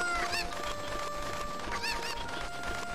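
Chickens cluck in the video game Zelda: Ocarina of Time, several short clucks repeating over a steady, faint background tone.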